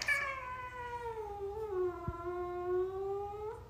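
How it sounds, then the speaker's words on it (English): A cat gives one long, drawn-out meow that slides slowly downward in pitch, close and fairly loud, heard alone without talking. "So I'm taking care of this cat."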